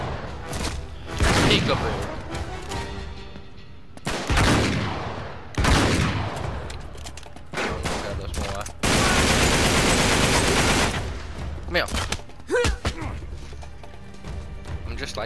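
Shotgun blasts in the video game Uncharted 3 come as several loud, widely spaced booms, with other gunfire and a longer burst of firing mixed in and a person talking in between.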